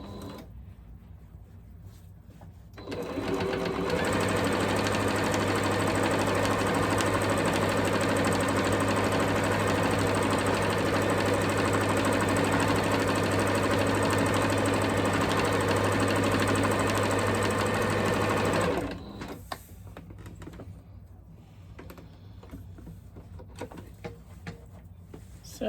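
A sewing machine stitches a quilted Christmas stocking in one steady, loud run of rapid needle strokes lasting about fifteen seconds, framed by quieter handling noise before and after.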